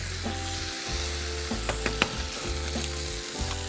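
Linguine with minced pork and holy basil stir-fried in a hot pan, a steady close sizzle broken by several sharp scraping stirs and clatters of the utensil against the pan.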